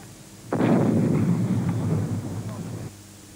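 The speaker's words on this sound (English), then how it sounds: "It had the finest field gun in the world, the 75mm, the 75, flexible, mobile, able to fire 25 rounds a minute." A French 75mm field gun fires a single deep boom that rolls and rumbles for about two seconds before fading, loud and dense with low-end energy.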